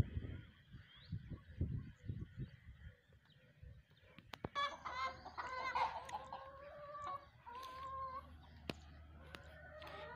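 Chickens in a coop damaged by heavy rain in Haroonabad, Punjab, cluck and call repeatedly in the second half, close and lively, after a stretch of low thumps and background rumble.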